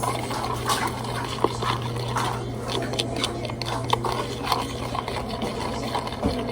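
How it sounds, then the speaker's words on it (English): Cornstarch being stirred into a liquid while cooking pepper steak, soft wet sloshing and scraping clicks at a low level, irregular and close, with a steady hum underneath. "I'm going to do a little bit of cornstarch. And I'm gonna just mix this."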